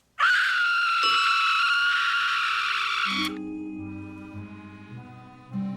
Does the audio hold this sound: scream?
yes